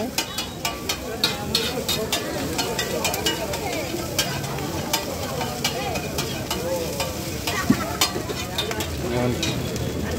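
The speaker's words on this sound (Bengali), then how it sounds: "আমাদের সামনেই চাউমিনটা তৈরি করছে আর কি" Egg chicken chow mein crackles and sizzles on a street stall wok while a metal spatula clanks in quick repeated strikes, with background voices and street bustle.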